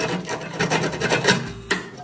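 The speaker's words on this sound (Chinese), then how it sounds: "找到这个温度开关，拿下面这个退点用砂纸给它打磨一下" Sandpaper rasps against the contact point of a rice cooker's thermostat switch in quick back-and-forth strokes, a close and steady scratching that ends with a sharper scrape.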